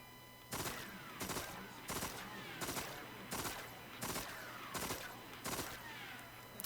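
A video game weapon fires slowly during a recoil test, with about eight evenly spaced, punchy shots or short bursts, each trailing a brief echo.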